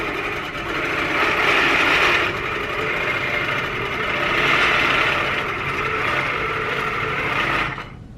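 A longarm quilting machine runs steadily while sew-basting a quilt, a close continuous motor whir that swells and eases in a few long passes before cutting off near the end, with no talk.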